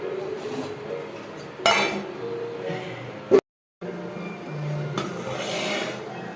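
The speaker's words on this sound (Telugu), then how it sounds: "మనం ఇప్పుడు మూత పెట్టేద్దాం" A lid goes onto a pot of chicken biryani on a home stove, giving a few sharp metallic clanks and clinks against a quiet kitchen background, with one louder knock midway.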